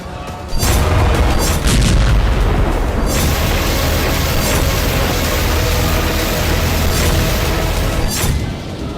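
Heavy battlefield artillery and explosions in the Donbas fighting in Ukraine, with tanks, cannons and rockets in use: a continuous loud, dense rumble of booms and blasts that persists for nearly the whole stretch, with no voices.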